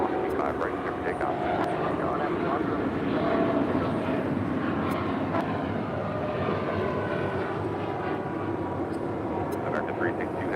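A jet airliner rolls for takeoff on runway 25 right at LAX, its broad engine roar steady and loud throughout, with radio chatter faintly underneath.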